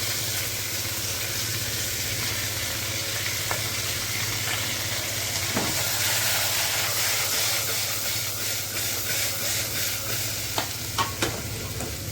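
Chopped vegetables sizzle in a hot tempering of dried red chillies and curry leaves for vegetable khichdi, a steady loud frying hiss with occasional stirring scrapes and clinks, close and without talk.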